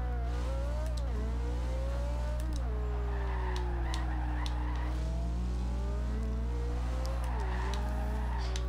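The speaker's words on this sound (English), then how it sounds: "It sounds like stock exhaust even though it's not." Engine and exhaust of a 2010 Abarth 500 drag car in Forza Horizon 2, a loud steady drone rising and falling as the revs change, with tire squeals and no talk.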